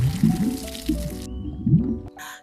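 Water runs and splashes in a home shower, a close, uneven gush with wet spattering that cuts off abruptly midway, followed by a brief quiet and a short final burst of hiss.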